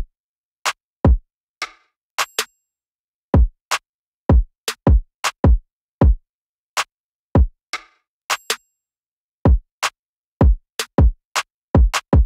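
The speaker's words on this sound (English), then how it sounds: "So the kick, clap, and snare all sound like this together." Beat drums with kick, clap and snare struck together in loud, sharp hits, spaced irregularly with silent gaps between them, a few hits falling as quick doubled strikes.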